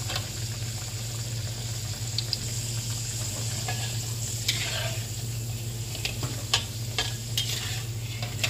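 Garlic and sliced shallots fry in hot oil for potato perkedel, a steady close sizzle with scattered clicks and scrapes from stirring in the pan.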